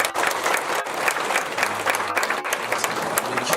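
A church congregation claps to welcome a guest, a loud, dense round of applause with brief faint murmurs underneath, close and continuous across the few seconds.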